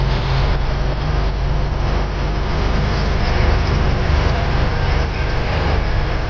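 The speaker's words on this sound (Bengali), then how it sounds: "toy train" A toy train for children and adults runs at a seaside amusement area in Digha, giving a loud, close, continuous rumble and clatter that stays steady throughout, with no clear talk over it.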